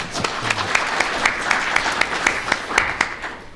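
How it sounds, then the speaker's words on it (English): Conference audience applauds the organizers in a thin, rhythmic round, distinct individual claps ringing out at a steady pace, fairly close and moderately loud. "I also wanted to ask to give a round of applause for the organizers, Harlis, Christo, and others."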